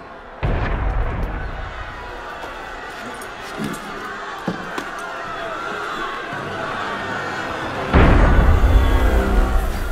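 Deep booms of cannon fire in Assassin's Creed Unity go off amid a restless crowd murmur and voices, with a heavy blast near the end.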